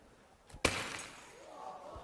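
A frozen onion smashes with a single sharp, glass-like crack, loud and close, followed by a brief scattering rattle that fades into low background noise.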